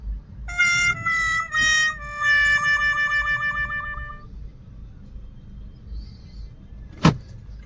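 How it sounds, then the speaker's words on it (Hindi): A car driven by a learner who keeps forgetting second gear: a steady low engine rumble from inside the cabin, with warbling electronic tones over the first few seconds and one sharp click near the end. "संजू को आती है थोड़ी बहुत गाड़ी चलानी"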